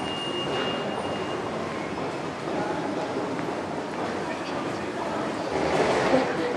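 A passenger train rides from Germany, a steady broadband rumble and rattle of the carriage throughout, with a brief high squeal near the start and slightly louder rolling noise toward the end.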